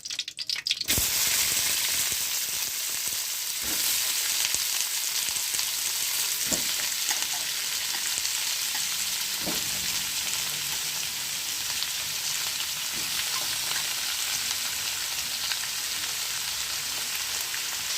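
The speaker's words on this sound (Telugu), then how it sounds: "మనం బాండి పెట్టుకొని ఆయిల్ అయితే వేసుకుందాము ఇప్పుడు దీనిలో మనం ముందుగానే కడిగి పెట్టుకున్న క్యాబేజీని వేసుకోవాలి" Washed cabbage hitting hot oil in a pan, with a steady, loud sizzle and frying hiss running throughout, occasional clicks and stirring knocks, and no one talking.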